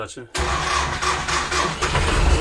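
An MTZ tractor engine cranks briefly, then fires and catches, running loud and close with a rough, pulsing idle; someone speaks over it.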